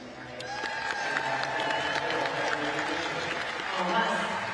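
An enthusiastic crowd applauding at the national track cycling championships in Manchester, steady clapping and cheering filling an indoor velodrome while a commentator talks over it.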